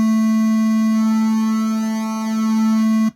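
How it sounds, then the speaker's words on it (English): Synth oscillator playing a sustained square wave with pulse width modulation, a steady buzzy tone at one pitch whose timbre slowly shifts and sweeps before cutting off abruptly. "Most common is pulse width modulation on a square wave."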